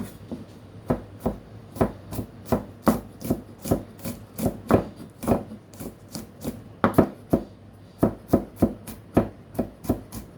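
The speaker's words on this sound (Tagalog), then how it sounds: "Tapos, i-chop natin." Rapid, steady knife chops on a wooden board as peeled garlic is minced for a steamed fish topping, about two dozen crisp close strikes in an even rhythm.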